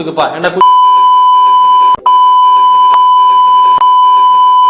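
A long, steady censor beep tone runs over speech after a short burst of talking, with brief dropouts and faint voice fragments beneath it.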